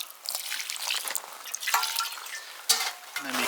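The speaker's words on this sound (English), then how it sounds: "So we slowly start to introduce the water," Water poured and dribbled into a lime mortar mix, with wet trickles, drips and sloshing in short bursts, close and moderately loud, no voices.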